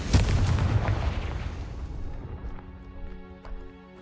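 A fiery Confringo spell explosion in Hogwarts Legacy hits with a loud booming blast, then rumbles and decays over several seconds, with scattered crackles and small pops in the tail.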